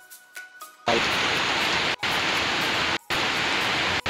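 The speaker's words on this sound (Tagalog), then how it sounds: "Sabi yung lakas ng ulan." Heavy rain pours down outdoors at a pigeon racing loft, a loud dense roar that starts abruptly after a moment of quiet and continues with brief dropouts.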